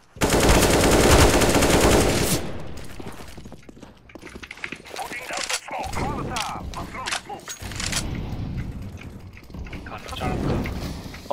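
An AK rifle in CS:GO lets off a loud, rapid burst of automatic fire at the start. Scattered shots and footsteps follow as the fire thins out, and players talk over the action.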